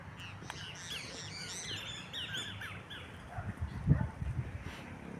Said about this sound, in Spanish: Hay otro pájaro.